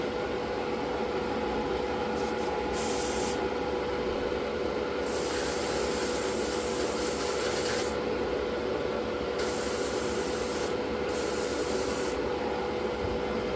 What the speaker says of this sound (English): I'll probably give these a few coats here just to get a good coverage on it.